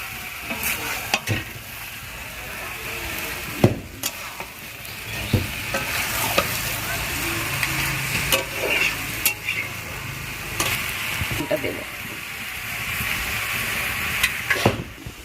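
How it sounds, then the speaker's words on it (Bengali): Spiced chicken curry with capsicum and a special masala is stirred and fried in a pan, giving soft sizzling and irregular spatula scrapes and clinks up close with no talking. "দিয়ে আমরা ভালো করে কষিয়ে নিচ্ছি"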